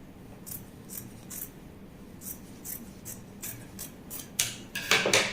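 Scissors snip through dress fabric in a quick run of short, crisp cuts, faint at first and growing closer and sharper toward the end, with no talking.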